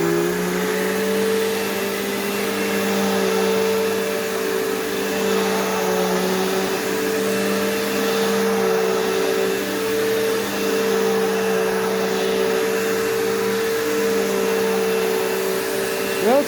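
A Dirt Devil Swivel Glide bagged vacuum cleaner runs with a steady, loud motor hum and airflow whoosh. It holds unchanged throughout at close range.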